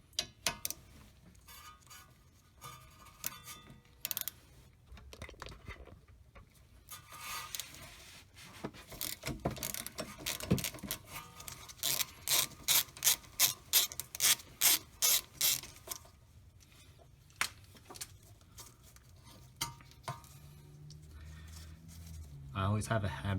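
A ratchet on a 3-inch extension with a 12 mm six-point socket working brake caliper bolts on a rear disc brake, with quick bursts of clicking strokes that grow into a rapid rhythmic series, up close amid scraping and handling noise.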